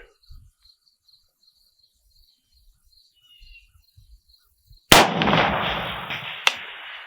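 A Zastava M90 AK rifle firing Taiwan ammunition at a distant outdoor target lets off a single sharp, loud shot after several quiet seconds of faint insect chirping, followed by a fading echo and a small second crack.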